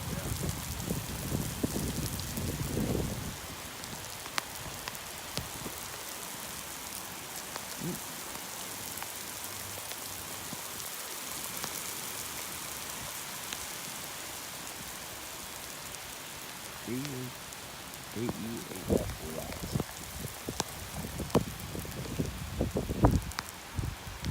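Rain patters steadily on a street outdoors, a constant soft hiss with scattered nearby drops and rustling, while people talk briefly at times.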